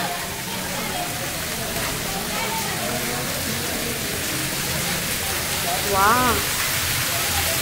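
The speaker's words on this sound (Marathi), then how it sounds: "सतत कंटिन्यू पाणी चालू असतं ना, हे अगदी 24 तास हे पाणी चालू असतं." A steady, continuous rush of running water at the Nilkanth Dham temple, an even splashing hiss that holds unbroken throughout, with a brief voice rising over it near the end.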